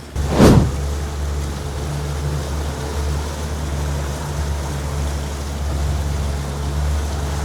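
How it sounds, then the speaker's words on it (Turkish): A small fishing boat's engine drones steadily with a low hum over wind and sea water wash, passing among cargo ships, beginning with a brief whoosh, continuous and fairly loud throughout. "Böyle yük gemilerinin arasında küçücük balıkçı teknemizle ilerliyoruz"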